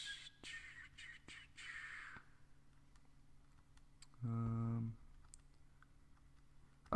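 Buttons pressed on a calculator while working out a probability factorial: several light clicks scattered through the first couple of seconds, then a short electronic tone, with faint speech and room noise between presses.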